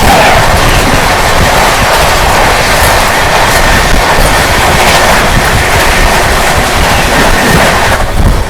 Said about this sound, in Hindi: सामने से आ रही है मंगला लक्षद्वीप।